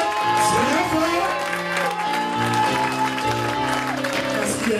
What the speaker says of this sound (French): Tiens-toi debout et acclame-le très fort.